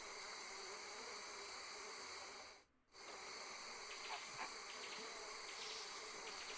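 Bees buzz steadily in the WildRP game world, a close, constant insect drone that briefly cuts out before returning, faint clicks scattered throughout, with no speech.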